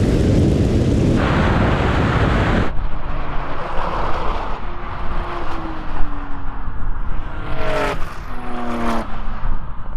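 Porsche 911 Turbo cars of several generations launch in a drag race, with a loud roaring engine blast that cuts off sharply, then engines rising through gears with whining, climbing tones as they pull away.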